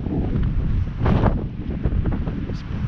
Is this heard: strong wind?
yes